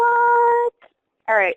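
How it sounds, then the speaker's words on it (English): A phone rings in the background during an online class, a steady buzzing tone for under a second before a voice briefly speaks. "That was my phone that just rang in the background."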